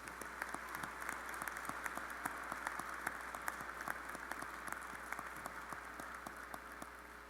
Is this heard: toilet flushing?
no